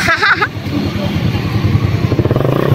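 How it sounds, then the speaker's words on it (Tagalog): A motorcycle engine idles and runs close by with a loud, steady, rhythmic putter, after a brief burst of voices at the start. "Patayin mo muna yung motor."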